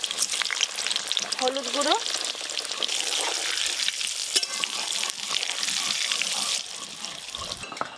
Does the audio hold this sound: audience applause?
no